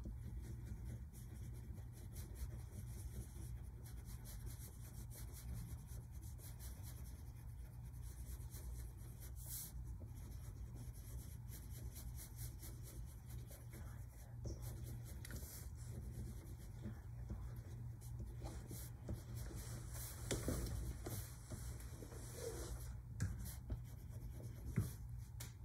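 Crayon or colored pencil rubbing steadily across paper during a visual art lesson, a continuous close scratchy shading sound with a low hum beneath it.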